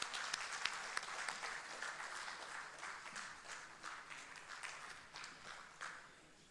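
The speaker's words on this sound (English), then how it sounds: "Can we have a big round of applause for Dr." Applause from an audience at an inauguration function, a steady wash of many hands clapping that holds for several seconds, then slowly fades.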